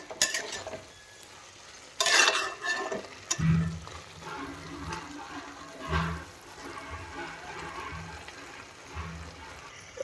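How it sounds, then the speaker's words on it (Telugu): Cabbage pieces and peas coated in salt, chili and spices cook over a medium flame, giving soft intermittent sizzling and stirring clatter, with a louder burst of scraping near the start and low background hum throughout. "ఈ ఉప్పు కారం మసాలాలంతా బఠానీకి క్యాబేజ్ ముక్కలకి అంతా పట్టేటట్టు ఒక 2 minutes మనం మీడియం ఫ్లేమ్ మీద మగ్గనివ్వాలి."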